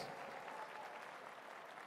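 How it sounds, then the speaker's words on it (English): Audience applause at a university graduation ceremony in a large convention centre hall, a steady, distant-sounding wash of clapping that stays even for its whole length with no voices over it. "Yes, one more round of applause"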